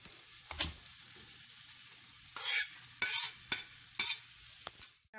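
Bacon and shrimp fry in a pan under a quiet sizzle, broken by several loud scraping stirs spaced about a second apart. No one speaks.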